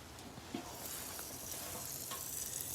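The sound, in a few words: bacon sizzling while frying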